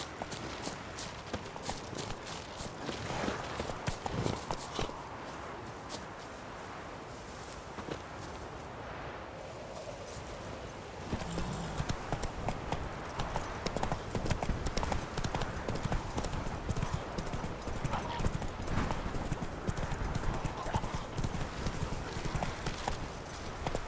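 Hooves of the horse in The Witcher 3: Wild Hunt clop steadily as it gallops, a continuous rapid rhythmic pounding with a brief slower stretch partway through, set against game ambience.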